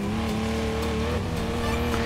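Off-road car in the game Offroad Mechanic Simulator driven at full throttle, its engine holding a loud, steady, high-revving drone throughout with faint tire noise, no talk over it.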